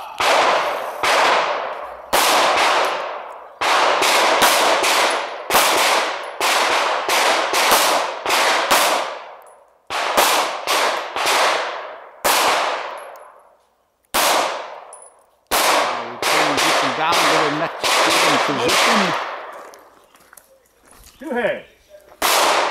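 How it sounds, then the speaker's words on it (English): Rapid handgun fire on a shooting competition stage at steel targets: dozens of loud, sharp shots in quick strings broken by short pauses, with metallic clangs from the hits ringing out close to the shooter. "Stagey's first three targets are weak hand only for a total of 9 shots."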